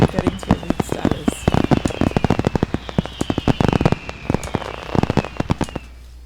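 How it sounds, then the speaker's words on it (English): Victory royale fireworks go off in Fortnite Battle Royale as a dense string of sharp crackling bursts and pops, with whistling rising tones overhead, lasting about six seconds before tapering off. "let's shoot off some victory royale fireworks in celebration of getting to elite status"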